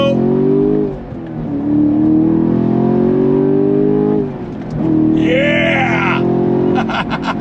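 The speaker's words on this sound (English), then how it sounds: "a pushrod V8, the older style pushrod V8, has such a distinct tone to it" A deep, rumbling pushrod V8 in a 2024 Chevrolet Camaro SS revs hard and pulls away from a light, pitch climbing through two strong bursts of acceleration with a brief lift between them.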